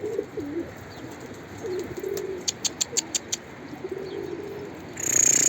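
Soft pigeon coos repeat through a quiet outdoor rooftop scene, with a run of sharp clicks midway and a brief rustle near the end.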